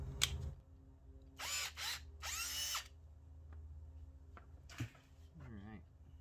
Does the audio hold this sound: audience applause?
no